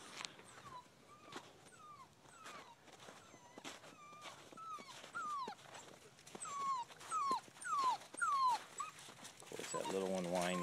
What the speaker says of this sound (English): Little one whining is the pup we're keeping.